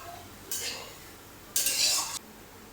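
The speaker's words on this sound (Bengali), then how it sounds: "আর পেঁয়াজ আর রসুনটা এবার একসঙ্গে একটু ভেজে নিচ্ছি" Chopped onion and garlic frying together in a pan while being stirred gives two short bursts of hissing and scraping, the second louder and longer, with a quiet gap between them.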